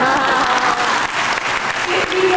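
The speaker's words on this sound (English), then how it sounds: "You're supposed to clap." A seminar audience breaks into loud, sustained applause, dense clapping from many hands close by, with voices mixed faintly underneath.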